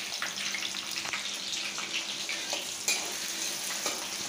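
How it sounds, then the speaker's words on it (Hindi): Onions frying in oil, a crackling sizzle with wet spatters and a few stirring knocks, close and continuous, no voices. "इस प्याज को तलेंगे जब तक कि ये"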